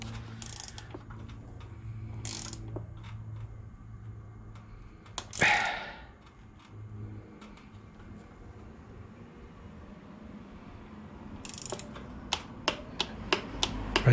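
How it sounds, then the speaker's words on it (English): A torque wrench on a carbon bicycle seat post gives small, sharp clicks: one isolated snap partway through, then a quick cluster of dry clicks near the end, all faint against a quiet, low background hum. "If you got a good torque wrench, it'll click when you get to your torque."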